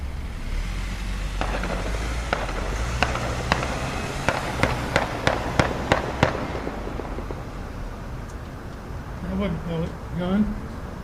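Gunshots from a pellet gun fired at a car, heard in played footage at a city council meeting: a rapid series of about eight sharp cracks over background noise, with voices and a car heard faintly afterward.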